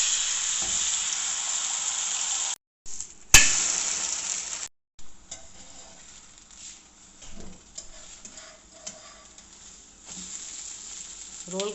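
An omelette sizzles steadily in a pan while egg karahi is cooked, a loud continuous frying hiss broken by a couple of brief cuts, then quieter crackling with scattered clinks and stirring.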